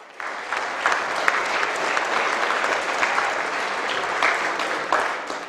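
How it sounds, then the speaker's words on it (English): Sustained crowd applause welcoming the Pakistan team at the opening ceremony of the WSF Under-23 World Squash Championship, a continuous dense clapping from a large audience in a hall, steady and loud throughout. "Can we please have a round of applause for the Pakistan team?"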